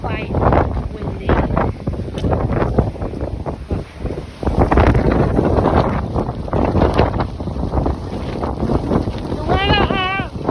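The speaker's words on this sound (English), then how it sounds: "So I hope you can still hear me as we go outside because it is quite windy." Strong wind gusting outdoors in wind and rain, buffeting the microphone with loud, continuous low rumble throughout, with brief talk and a short voice near the end.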